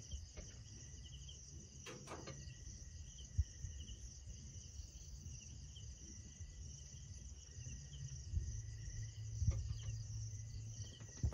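Crickets chirping in a continuous high, steady trill around a lone lit hut on a forested mountaintop in the Philippines at night, with a few faint clicks and soft low rumbles beneath.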